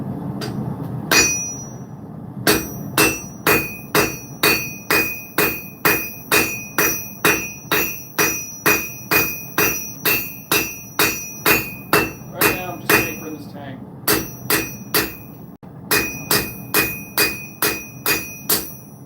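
A hammer strikes stock carbon steel such as 1075 or 1080 on an anvil at a forge, ringing out in a fast, steady run of loud metallic blows with bell-like overtones and a few short pauses.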